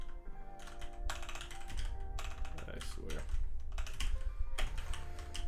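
Rapid typing on a computer keyboard, with busy clustered clacks running almost nonstop at close range. Background music plays underneath, and a brief spoken remark overlaps the keys.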